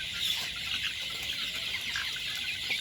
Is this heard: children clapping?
no